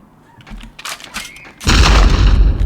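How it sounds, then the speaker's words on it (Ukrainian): A grenade goes off in the BloodRayne video game: a few sharp, scattered cracks and thuds lead into one sudden, heavy, close explosion that booms and rumbles loudly to the end, with no voices. "Так, гранату кинули."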